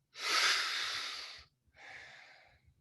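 Slow, deep breaths during a guided breathing exercise: one long airy inhale followed by a softer, shorter exhale, close and quiet with a faint low background hum.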